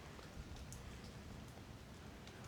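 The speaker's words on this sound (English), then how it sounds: "Rain on the lens" Rain patters steadily on a camera lens outdoors during a house wash, a dense, faint hiss of drops with occasional sharper ticks and no voices.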